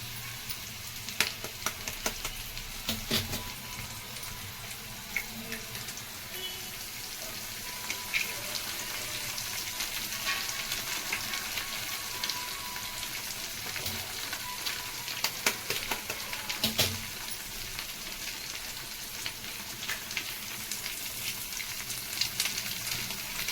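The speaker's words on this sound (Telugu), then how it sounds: "ఇవన్నీ కొంచెం వేగాలండి. ముక్కలు వేగిపోయి గుడ్లు వేసుకుందాం." Ivy gourd pieces fry in a pan for an egg fry, making a steady close sizzle with occasional soft clatters and stirring sounds throughout.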